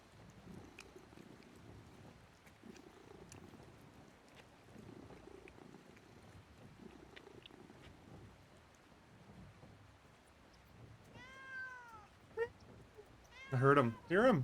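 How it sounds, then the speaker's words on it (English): A cat in the Red Dead RP video game meows several times near the end, with rising-falling cries coming in quick succession after a long stretch of soft low rumbling ambience and faint talk underneath. "Oh, look at a little cat."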